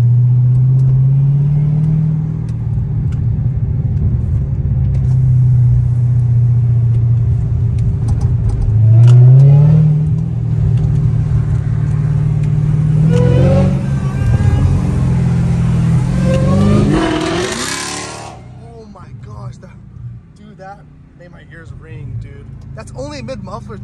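A Dodge Hellcat Redeye's engine rumbles loud and close with several rising revs, and voices talk over parts of it before it settles to a lower idle near the end.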